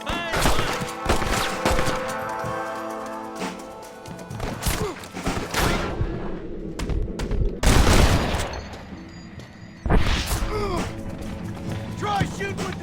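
Gunfire in a Western shootout in the video game Red Dead Redemption crackles in rapid volleys and single sharp shots, with horses and shouting voices mixed in over busy game music.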